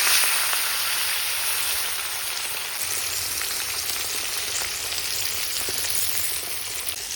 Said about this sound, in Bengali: এবারে মাছগুলো তেলে দিয়ে খুব ভালোভাবে ভেজে নেব